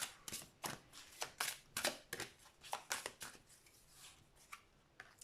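Tarot cards being shuffled and drawn by hand, a rapid series of crisp riffling flicks and snaps close up, irregular in rhythm and gradually slowing and thinning out toward the end.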